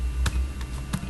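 A few sparse keystrokes on a computer keyboard, three distinct close clicks over a soft steady background hum.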